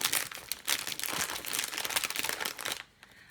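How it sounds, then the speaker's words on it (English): Plastic packaging around Dollar Tree gift items crinkles and crackles in dense, close, continuous bursts, then drops off briefly near the end before one last rustle. "Sorry for the crinkling."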